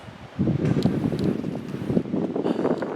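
Wind gusting around a backyard camp shelter with a back step, a rough rushing roar against the microphone with rustling, rising and falling in bursts close by, no voices.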